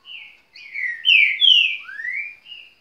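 A songbird of the kind entered in singing tournaments delivers a clear, close series of whistled notes and chirps, rising and falling phrases separated by short pauses, with no other sound.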